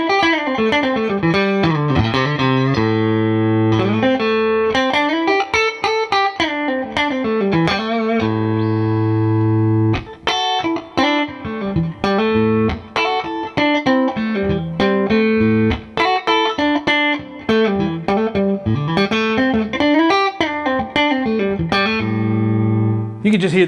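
Fender Custom Shop 2019 Limited Poblano Stratocaster electric guitar in the middle pickup position plays a flowing clean passage of rising and falling runs and ringing chords, close-up and continuous with no voice over it.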